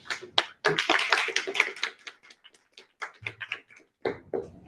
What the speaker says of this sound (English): So please welcome her with a big round of applause.